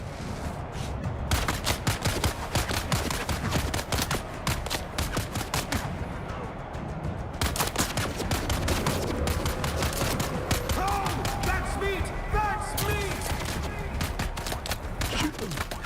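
Heavy automatic gunfire in Dune: Awakening hammers away in long, tightly packed bursts, close and loud, with a short lull near the middle before the shooting resumes and continues to the end.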